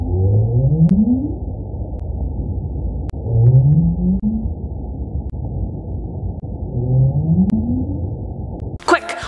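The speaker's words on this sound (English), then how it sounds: "This sound is coming from the North Atlantic right whale" North Atlantic right whale calls recorded on a hydrophone: three low rising upsweep moans, evenly spaced over a steady underwater rumble, followed by a brief bright burst at the end.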